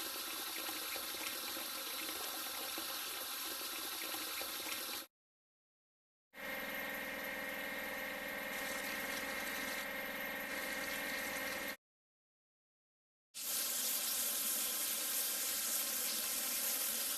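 Steady spraying water from a car wash in a kids' vehicle-building video game, a continuous hiss broken by two short silences.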